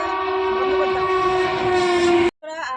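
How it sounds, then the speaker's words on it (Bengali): A train passes close by, its horn sounding as a long, loud, steady blare that holds for over two seconds, then cuts off sharply and is followed by rumbling wheel and engine noise. "তারপরে তোমার সাইড দিয়ে ট্রেন চলে এসেছিলো"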